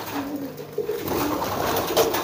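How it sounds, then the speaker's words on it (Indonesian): A pigeon coos close by in a short series of soft, low throaty calls, with a few quiet background noises. "Nah, ini burungnya tuh, merpatinya tuh."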